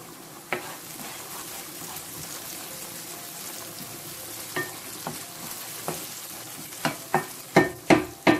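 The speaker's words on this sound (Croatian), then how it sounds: "Luk sam već stavila da se prži." Onion sizzles steadily in a frying pan, close and fairly loud, with scattered spoon scrapes and a run of sharper clanks near the end.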